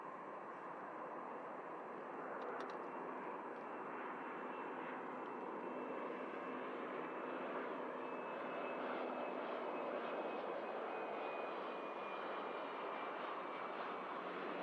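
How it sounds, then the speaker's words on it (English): An Embraer jet landing at Manchester Airport makes a broad, steady roar with a faint high whine, held at even loudness and heard from a distance for the whole stretch, with no voices. "Nicely done from the Embraer. Great touchdown."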